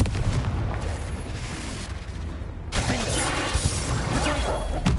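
Confringo blasting spell explosion in Hogwarts Legacy, a loud rumbling blast that trails off, followed by a second sharp, crackling burst of debris and impact noise, with no voices.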